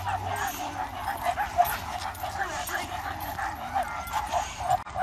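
Street dogs, including a female, bark, yip and whimper nearby on a street, in short intermittent bursts, while people talk over them throughout.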